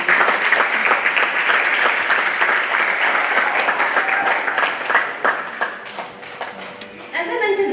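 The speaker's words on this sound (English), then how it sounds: "let's have a big round of applause for our musicians." Audience at a Bharatanatyam arangetram applauding the accompanying musicians, including a violinist, with brisk clapping that thins toward the end before a voice speaks over the last moments.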